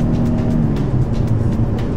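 A 2015 Lincoln MKC's 2.3-liter engine pulls hard under acceleration with paddle-shifted gears, a steady close engine drone with a rising tonal hum and road noise, no talking.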